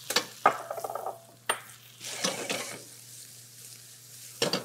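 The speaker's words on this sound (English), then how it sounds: "And right here, my friends, we're going to add the tomatoes." Tomatoes tipped into a pot of tender vegetables for shepherd's pie, a brief splatter followed by steady sizzling and frying with a few spoon-stirring scrapes and knocks.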